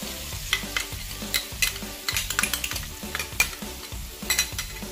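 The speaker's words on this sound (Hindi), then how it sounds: "इसको आप अच्छी तरह से हिलाएं अब इसके अंदर हम जो है 3 टेबल जो है दही का इस्तेमाल करेंगे।" A spice and yogurt curry mixture for a chicken roll dish is stirred in a pan, giving repeated scraping strokes with a soft sizzle underneath, close and moderately loud, with no talking.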